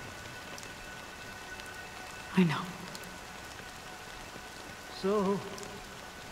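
Soft, steady rain falls in the video game Honkai: Star Rail, a faint continuous hiss heard under two brief spoken lines.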